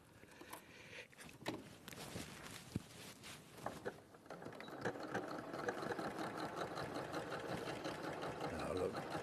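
A sewing machine stitches half square triangles in bursts that settle into a steady, moderately close whirring run, with people talking over it.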